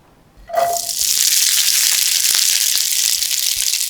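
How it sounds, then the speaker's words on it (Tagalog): Cooking oil heating in a pan for siomai pizza bursts into a loud, close sizzle after a quiet half-second, then holds as a steady, even hiss until the end. "Magpainit na tayo ng mantika."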